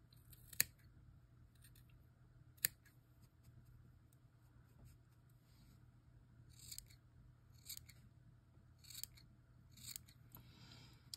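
Scissors snip yarn while trimming a heart-shaped pom tassel, faint close-up cuts spread irregularly over several seconds with soft rustling between them in a quiet room.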